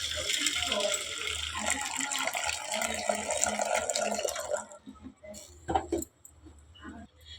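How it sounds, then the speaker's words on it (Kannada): Starch water poured off cooked basmati rice into a vessel, a continuous splashing pour that tapers into a few drips and clinks of the pot. "ಈಗ ನಾನೊಂದು ಪಾತ್ರೆಗೆ ಈ ಗಂಜಿನ ಬಗ್ಗಿಸ್ಕೊಂಬಿಡ್ತೀನಿ."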